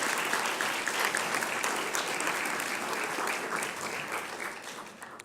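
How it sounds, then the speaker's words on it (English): Sustained audience applause fills a press club luncheon hall, a dense, steady wash of clapping that holds throughout and tapers slightly toward the end, with no voices over it. "Please, a round of applause."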